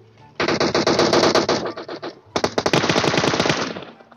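Loud, close automatic gunfire from the video game PUBG Mobile: two sustained rapid bursts separated by a brief gap, each a dense string of sharp shots.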